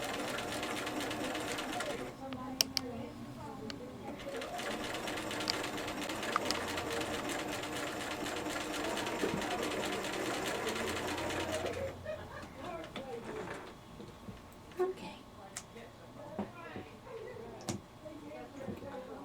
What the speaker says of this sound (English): So I'll be stitching very close to the piping.